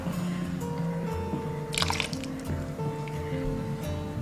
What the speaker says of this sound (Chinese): 倒入水淀粉勾芡，边倒边搅拌。